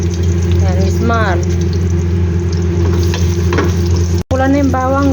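Garlic, bay leaf and cloves fry loudly and steadily in a pan for kabsa, with a constant crackling sizzle while a voice talks over it intermittently.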